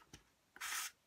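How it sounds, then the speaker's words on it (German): A piece of thread is snipped off for ribbon sewing, a faint short snip followed by a brief soft rustling swish, close and quiet. "Schneide ich mir noch mal ein Fädchen ab."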